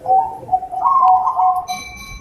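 A zebra dove, or perkutut, gives a close, loud, rolling coo in a few soft pulses, followed by a short quieter note, with no other sound competing.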